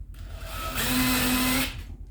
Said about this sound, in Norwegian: så jeg forborer jo for å unngå at det sprekker opp når jeg skrur i